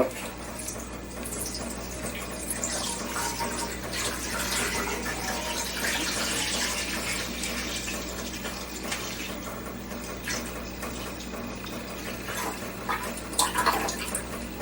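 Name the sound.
milk being poured into a pot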